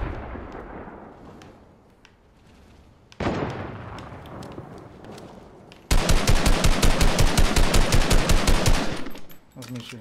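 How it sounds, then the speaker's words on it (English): Gunfire in Fortnite on Xbox One: scattered shots and rumbling blasts, then a loud, rapid run of automatic fire lasting about three seconds before it stops abruptly. "That's me shooting."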